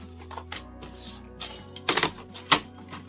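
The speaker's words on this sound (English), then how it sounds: "we are going to cut that line out, and a cutter." A few short, sharp scraping clicks and crisp slicing strokes up close, irregularly spaced, as a cutter blade cuts a line through card for jewellery display cards over a faint background hum.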